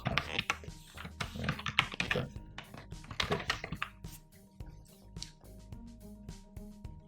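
Fingers type a plugin name on a computer keyboard. A quick run of close, crisp key clicks comes first, then it thins to sparse, scattered taps.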